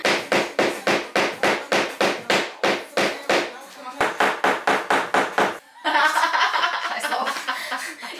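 Rapid, regular hammer blows ring out close by while assembling furniture during a move, a steady run of sharp strikes that pauses briefly, then gives way to laughter and chatter near the end.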